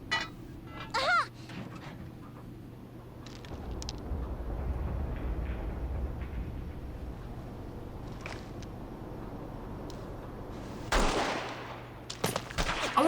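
Gunfire in the Lackadaisy pilot animation: a distant, sustained rattle of shots rolls under a steady rumble, with sharper, louder bursts toward the end and a brief voice near the start.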